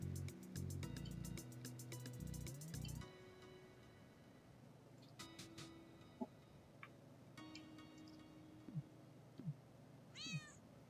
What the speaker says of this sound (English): this regular ass cat, not even anthro cat, just regular ass cats